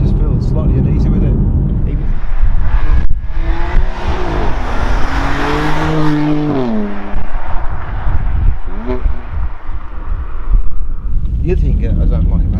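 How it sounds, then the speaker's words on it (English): BMW M4 exhaust with artificially enhanced flap sound, loud and close from inside or near the car: rough engine roar swelling and falling through revs, with sharp pops and a brief tire squeal mixed in. "the sound as well, particularly. You've got some trickery going on in the exhaust"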